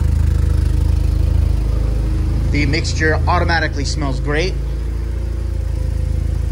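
A Porsche 944 engine fitted with a Focus 9 DME idles steadily and close by with a low, even hum, while someone talks over it for a couple of seconds midway.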